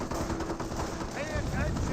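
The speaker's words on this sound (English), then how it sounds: "Snipers firing away." Sniper rifles firing in the Company of Heroes video game, sharp cracks mixed into dense battle noise with someone talking over the top.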